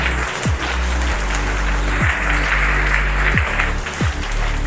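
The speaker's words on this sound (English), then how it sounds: "Let us give him a big round of applause." A school assembly audience applauds a student achiever, a dense steady wash of clapping that fills the whole stretch with a low hum running beneath it.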